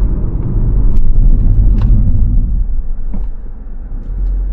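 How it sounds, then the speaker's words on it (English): A 2024 Buick Envista compact SUV brakes hard in a panic stop from 42 mph, giving a loud low rumble of road and tyre noise that eases as it slows, with a few faint clicks. "Let's come to a panic stop and check out these brakes at this stop sign here."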